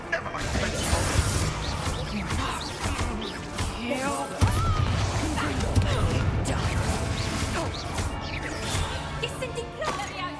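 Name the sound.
glass smashing in video game Hogwarts Legacy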